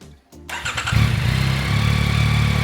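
A Yamaha 70th Anniversary Edition motorcycle with an inline-triple engine fires up after a brief starter crank, then settles into a steady, loud, close idle with no talking.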